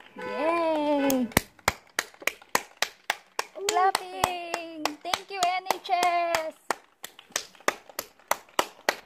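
Hands clap in a steady beat along to a children's song, sharp regular claps running throughout while a voice sings and babbles in stretches over them.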